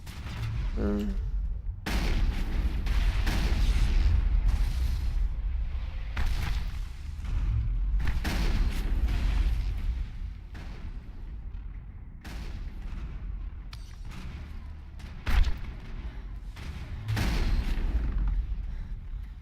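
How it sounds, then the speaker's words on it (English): Shotgun fire in the video game Mass Effect, heavy booming blasts repeating at irregular intervals through a dense, loud combat mix with explosions and music. "Let's try shotguns out for a bit, shall we?"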